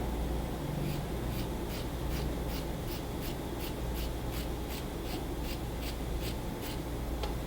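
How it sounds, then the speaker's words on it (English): Steady, quick snipping of small scissors cutting through blouse fabric, close up, with a regular rhythm of crisp little cuts over a low background hum. "with the little scissors, it's less likely for you to cut the body of the shirt"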